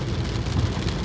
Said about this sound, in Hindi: बारिश हो रही है, कंटिन्यू।